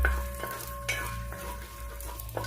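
Rava, crushed peanuts and raisins roasting in ghee in a pan over medium heat, a soft continuous sizzle with a few faint scraping stirs.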